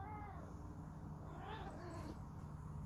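A pet cat named Tiff meows a few times close by, in a room where a metal detector pinpointer is being tested, over a steady low hum.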